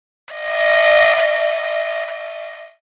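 A school lockdown alarm: a single loud, sustained whistle-like blast with a rich, harmonic tone holds steady for about two seconds, then fades out.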